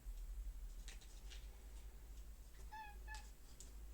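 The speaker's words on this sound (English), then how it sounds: "Hello, cat." A cat gives two short, faint meows in a quiet room during a home repair of a nine-year-old laptop, over a low steady hum.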